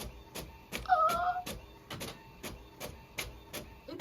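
Inkjet-style printer feeding and printing on cardstock, a regular series of sharp mechanical clicks and short whirring passes, with a brief squeaky tone early on, fairly quiet and close.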